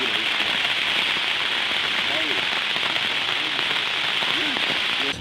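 Rain pours down in Menka village of Momo division, a continuous bright hiss of drops on surfaces, loud and even, with faint voices murmuring underneath.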